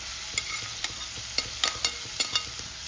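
Shrimp stir-fry in a hot pan with a steady, close sizzle, broken by irregular scraping and clinking as they are tossed and stirred, with no voices.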